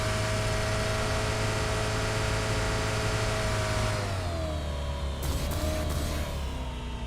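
A car engine revs and drones steadily inside a PUBG Mobile match on a beach map, loud and close, with the pitch shifting partway through as the vehicle changes speed.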